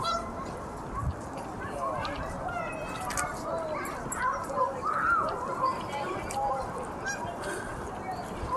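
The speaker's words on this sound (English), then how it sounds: "the ducks are making a racket" A large flock of ducks honks and quacks on grass along a city seawall, a dense overlapping chatter of calls with people talking over it and steady outdoor background noise.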